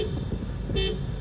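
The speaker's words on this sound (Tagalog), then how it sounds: "Sige, busina." A car horn gives one short honk in busy traffic near a tunnel during a driving lesson, sounding over the steady rumble of the car's engine.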